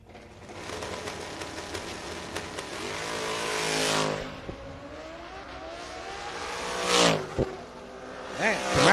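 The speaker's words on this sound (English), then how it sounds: "Camaro, beautiful run there." 1969 Camaro making a drag strip run at a drag racing event, engine roaring and revving up then falling away, with squealing tones and a crowd-level wash of noise, moderately loud and fairly close.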